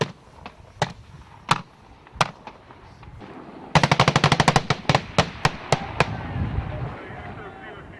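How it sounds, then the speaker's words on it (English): US Marines fire machine guns during an infantry exercise: sharp isolated shots at first, then a rapid loud burst followed by a few spaced bursts, with a voice talking faintly underneath. "requested increased machine gun fire so he can move closer to the target"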